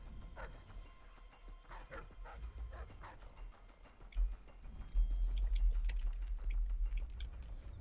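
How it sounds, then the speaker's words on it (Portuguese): A dog in the video game Dishonored: Death of the Outsider gives repeated soft yips and whimpering barks at a moderate distance, a rhythmic series over steady low rumbling game ambience that swells louder toward the end. "Como escapar de um cachorro?"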